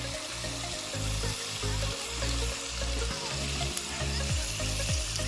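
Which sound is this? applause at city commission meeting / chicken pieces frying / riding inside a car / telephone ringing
chicken pieces frying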